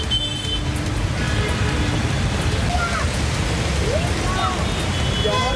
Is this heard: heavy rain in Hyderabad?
yes